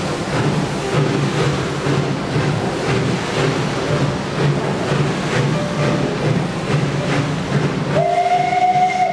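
A steam locomotive train at Prague Masaryk station gives off a continuous rumbling, hissing chug, with a whistle-like tone rising near the end.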